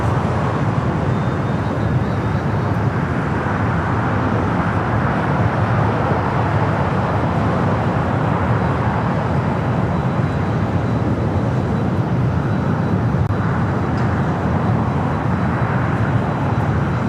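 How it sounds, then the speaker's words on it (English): Japan Airlines Boeing 787 Dreamliner arriving at LAX from Tokyo Narita, a loud continuous broadband jet roar that holds steady throughout, heard outdoors from nearby. "Japan Airlines Flight 62, the Dreamliner, coming in from Tokyo Narita."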